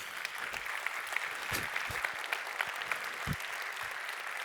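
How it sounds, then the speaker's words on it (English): An audience at a healthcare conference in Baltimore claps after a talk, dense steady applause from a roomful of people with a few louder claps nearby. "Another round of applause, please, for Matthew Griffin."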